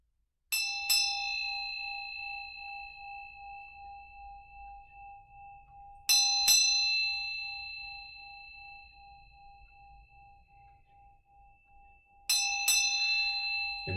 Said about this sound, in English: bell and the dorji was used by the monks in order to meditate